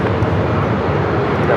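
A jet airplane roars loud and steady on its takeoff run at Phoenix Sky Harbor airport, a dense broadband engine rumble filling the whole moment, with speech mixed in underneath.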